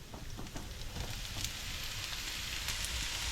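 Onions dropped into a hot pan for a sloppy joe pizza topping give off a steady, bright frying sizzle with scattered crackles, holding an even level throughout.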